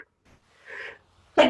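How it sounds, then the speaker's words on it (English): A single sneeze from a woman making a wreath, preceded by a faint inhaled build-up and ending in a sharp, loud burst close to the microphone. "I'm going to sneeze."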